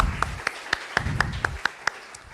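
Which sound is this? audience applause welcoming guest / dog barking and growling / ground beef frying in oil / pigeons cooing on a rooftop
audience applause welcoming guest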